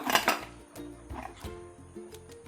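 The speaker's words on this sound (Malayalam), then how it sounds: "ഇനി നമുക്ക് കുക്കർ അടച്ച് അടുപ്പത്ത് വയ്ക്കാം" Metal clatter of a pressure cooker lid being closed, an initial loud rattle followed by lighter clinks and knocks, close by.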